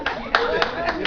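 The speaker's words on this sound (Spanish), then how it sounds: "Un aplauso para la señora" Hands clap in steady applause at a Corpus Christi festival celebration, a dense crowd clapping loudly and close with periodic louder bursts, voices mixed underneath.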